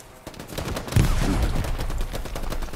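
Rapid bursts of automatic gunfire crackle in a World War II-style shooter game with an MG42 nearby, dense overlapping shots swelling partway through and continuing to the end, no voices heard.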